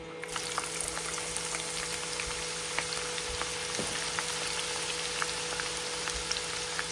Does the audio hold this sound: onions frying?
yes